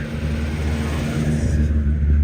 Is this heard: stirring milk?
no